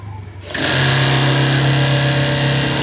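A sewing machine stitching a blouse uniform starts up after a short pause, then runs as a loud, steady, high motor whir with rapid needle clatter.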